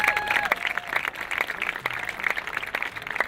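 A graduation ceremony audience at the Lauder School of Government applauds the faculty, dense continuous clapping from a large crowd that stays steady for the whole stretch.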